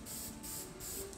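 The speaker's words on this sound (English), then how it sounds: "What's your spray paint in there?" A spray paint can hisses in a shop as paint goes onto a truck, giving a steady, close, continuous spray that swells slightly in pulses, with no voices.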